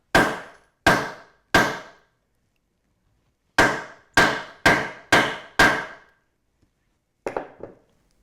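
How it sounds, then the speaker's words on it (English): Eight sharp metallic hammer blows on a hole punch ring out in two groups, three then five, each decaying quickly, followed by a faint softer clatter. "and then whack it with a hammer."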